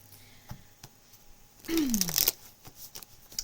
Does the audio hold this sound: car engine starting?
no